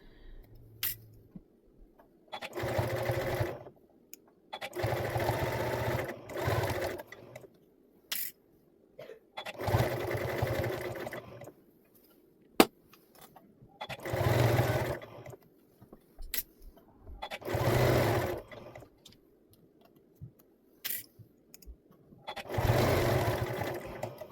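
A sewing machine stitches a cuddle kit in repeated bursts of a few seconds each, separated by quiet pauses as pins are pulled, with light handling noises between runs.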